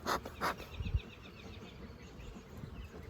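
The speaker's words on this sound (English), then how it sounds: "I have bees all the way across." Honeybees hum faintly around an opened hive during an early March inspection, a soft buzzing bed with a few louder bumps and clicks from the frames near the start.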